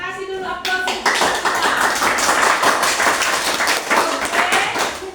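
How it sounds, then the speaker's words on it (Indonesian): A classroom group claps for a student group after a math task, brisk and fairly loud applause from several people starting just after a spoken voice and continuing steadily to the end. "Kita kasih dulu aplaus."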